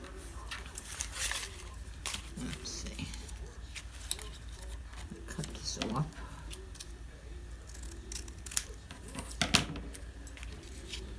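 Scissors snip through a paper doily lace up close, giving faint, irregular crisp cuts and rustles spread over about eleven seconds, with quiet talking in between.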